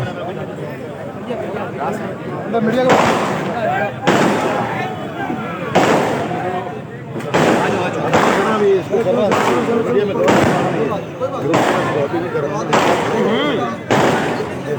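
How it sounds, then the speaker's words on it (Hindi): Fireworks burst at a political rally in Baldia Town, Karachi, a steady string of sharp cracks and pops, one every second or so, with crowd voices and shouting mixed underneath. "आतिशबाजी यहाँ पे"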